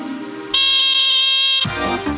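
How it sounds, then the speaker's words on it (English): A home smoke alarm sounds a loud, steady high-pitched electronic tone continuously for about a second, then cuts off abruptly. "Now you go to your bedroom and sound the alarm."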